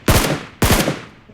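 Two sharp bursts of automatic gunfire in the battle royale game BGMI, each a loud close crack that trails off quickly, spaced about half a second apart with no talking.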